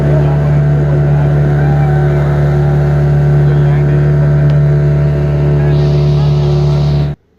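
A speedboat engine drones loud and steady on water near Baratang in the Andamans, with constant rushing hull and wind noise that stops abruptly at the end.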